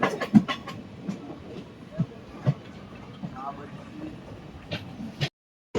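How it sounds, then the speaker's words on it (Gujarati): A train on a Gujarat railway line near Jamnagar approaches with a continuous rumble and sharp rhythmic clatter, fairly close, with voices briefly heard over it. "લગભગ ટ્રેન આવતી લાગે સામેથી"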